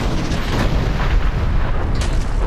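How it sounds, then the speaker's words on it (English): Cannon fire in the video game Dungeon Siege 3 during a mine-shaft sequence, heard as a dense, loud, sustained rumble of booming blasts with heavy low end and no clear gaps between shots. "Ready the cannon!"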